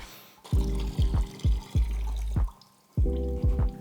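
Coolant drips and splashes from a K-swapped EK Civic during engine work, a series of distinct liquid plops and short trickles at an uneven rhythm, close and fairly loud.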